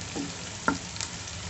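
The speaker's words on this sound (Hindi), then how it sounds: "सारा लहसुन को डाल करके हम इसे अच्छे से थोड़ा सा हम सॉफ्ट होने देते हैं।" Chopped garlic softening in hot oil in a home kitchen pan, giving a steady, soft sizzle with a couple of light stirring clinks, close and alone without speech.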